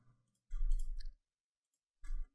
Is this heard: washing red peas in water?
no